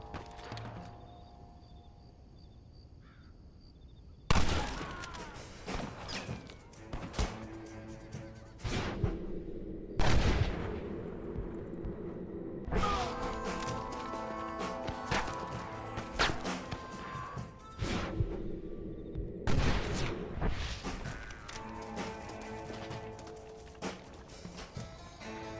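Sharp gunshots from Red Dead Redemption, a handful of loud, isolated cracks spaced several seconds apart, each ringing out with a lingering echo over a quieter background.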